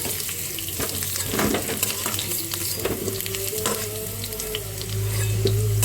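Food sizzles in hot oil in a wok in a home Bengali kitchen, a steady hiss with occasional scraping and stirring clicks and a low hum, with no talking.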